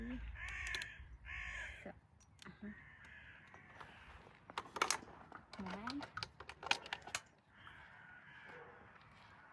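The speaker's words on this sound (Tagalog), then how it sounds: "So yung mga uwak na naririnig nyo." Crows cawing outdoors in harsh, repeated calls, mixed with quiet talk and small clicks after fruit picking near a parked bike.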